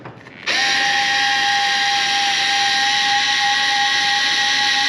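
A power tool fires up abruptly and holds a steady, loud high whine with a hissing edge while tightening nuts on a Cadillac CTS-V during a conversion kit install.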